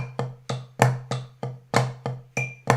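A drum sticking exercise in even 8th notes, with about ten sharp, evenly spaced strokes, each ringing out briefly with a pitched drum tone. Close and clear, with no talking.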